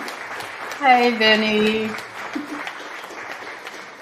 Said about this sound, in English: Y'all gotta stop clapping